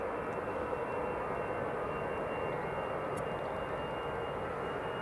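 An EasyJet airliner approaching Edinburgh Airport makes a continuous broadband roar that stays steady and fairly distant throughout, with no voices.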